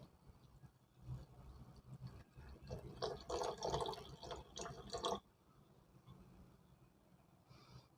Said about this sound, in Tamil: நாங்கள் ஒரு கா கப் தண்ணி விட்டுக்கொள்வோம்